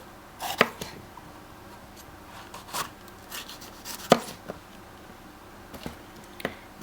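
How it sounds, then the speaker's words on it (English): A knife chops capsicum into strips on a cutting board, giving scattered sharp cuts, a few crisp and close, with quiet gaps between them and no talking. "I'm also going to chop up a bit of capsicum."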